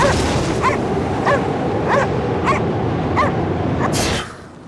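A dog barks repeatedly in a cutscene from the video game Cryostasis, sharp, loud yelps at an even pace over a dense, rumbling background before the scene cuts to near silence.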